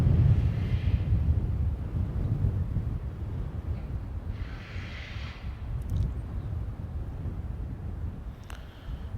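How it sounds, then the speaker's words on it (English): Gusty wind buffets the microphone outdoors at a stadium construction site, a low rumbling roar that swells and eases in waves, with a couple of faint distant clicks. "A bit windy today."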